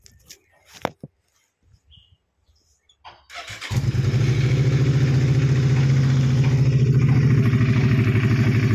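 A 2011 Suzuki V-Strom DL650 motorcycle in rebuilt wreck condition fires up after a few quiet clicks and settles into a steady, loud, throbbing idle close by.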